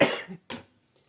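Two quick, sharp coughs, close to the microphone, separated by a brief pause and followed by silence.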